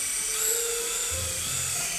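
A toy flying ball with airplane wings whirs with a high, shrill motor whine, loud and steady like a small drill, its pitch wavering slightly over two seconds with no talk.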